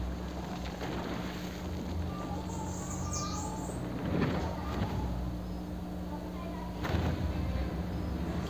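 Bird calls of the bird-eel creature in the video game Gris, thin high chirps and a falling whistle over a steady windy, rumbling game ambience.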